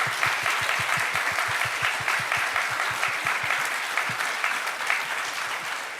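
Audience at the World Knowledge Forum applauds two professors after a session, steady dense clapping at even loudness across the room, with a faint voice briefly beneath.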